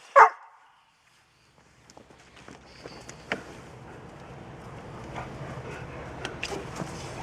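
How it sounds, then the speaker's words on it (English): A dog gives one loud bark close by at the start, followed by a quieter stretch of faint shuffling and background noise. "DOG"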